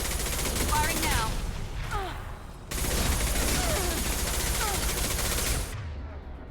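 Weapons fire in the Mass Effect 2 shooter, rapid bursts of gunshots in two long volleys with a short lull between, moderately loud, with voices speaking over the shooting.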